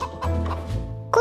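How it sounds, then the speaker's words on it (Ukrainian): Chickens in a coop give a short burst of clucks and clipped calls, close and fairly loud, ending on a sharper squawk. "Тим більше, що вже і кури є."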